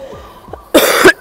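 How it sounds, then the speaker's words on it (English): One loud, close, harsh cough from a person sick with a dry cough, after a couple of faint breathy sounds. "I have a cough"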